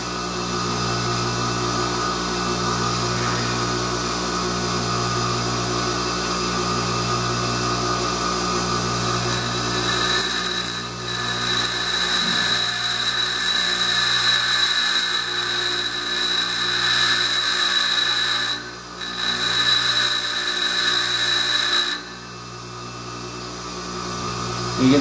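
A grinding wheel that is wearing down fast shapes a single point boring tool for cast iron, a loud steady abrasive whine and hum holding for long stretches with brief dips, with no talk.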